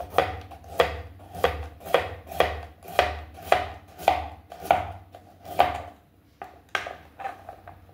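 Vegetables for chicken vegetable soup being sliced into rounds with a knife on a cutting board, a steady series of about a dozen crisp, close chops with a short pause near the end.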